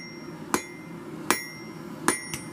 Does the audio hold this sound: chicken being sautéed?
no